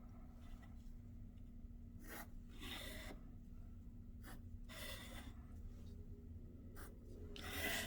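A pencil scratches and rasps on paper while drawing shapes, with a few short strokes in uneven bursts, close and fairly quiet against a steady low hum.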